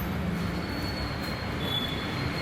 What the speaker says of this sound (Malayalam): ട്രെയിൻ പൊയ്ക്കൊണ്ടിരിക്കുകയാണ്